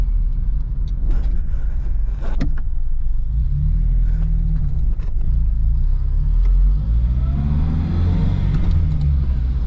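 A 1971 Vauxhall Firenza engine idles roughly and stumbles, a loud low rumble with uneven surges and a few sharp pops as revs dip and settle.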